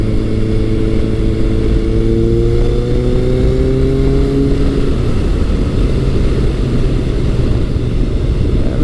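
A retro Honda CB1100 or Kawasaki ZRX1100 superbike engine drones smoothly at around 55 mph, a steady low hum with gently shifting tones and constant wind rush.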